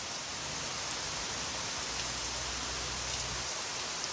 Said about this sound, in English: Sound of the raindrops sound so wonderful